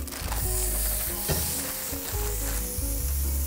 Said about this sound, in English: the first thing that we're going to do here in our Dutch oven is we're going to fry up our chorizo